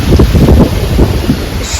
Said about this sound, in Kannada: ಧೂಳಿದೆ ಆ್ಯಂಡ್ ಎಷ್ಟು ಗಾಳಿ ಇದೆ ನೋಡಿ